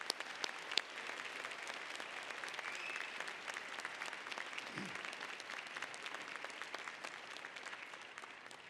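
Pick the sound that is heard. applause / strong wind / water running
applause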